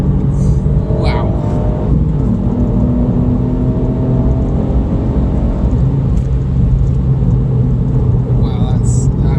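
A 2018 Ford Fiesta ST3 with a small engine accelerating hard, heard from inside as a steady loud rumble and whir with rising tones, while people talk excitedly.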